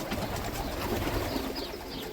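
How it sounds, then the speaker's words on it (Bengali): Pigeons in a large railed enclosure of tin coops in Saudi Arabia coo softly under a steady wash of outdoor ambient noise, their low calls faint but continuous. "এই যে দেখো এই পায়রাগুলো একেবারে আলাদা রকম"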